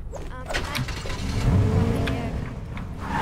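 A car engine revs in a video game, a steady mid-low drone swelling louder toward the middle over a gritty mechanical whine, with game background noise throughout.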